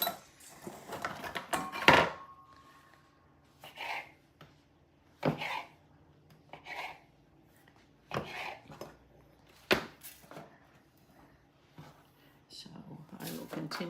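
Knife strokes slicing through rolled cinnamon roll dough in a home kitchen, a series of separate soft thuds and cuts spaced a second or two apart, close by and moderately loud, with faint clatter between them.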